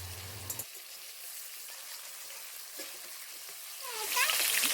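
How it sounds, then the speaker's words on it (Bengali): Fish frying in hot oil in a pan gives a faint, steady sizzle throughout, rising louder near the end as the pieces are turned, with no talking. "উল্টো পিঠটা এবারে উল্টে নিয়ে লাল লাল করে ভেজে নেবো"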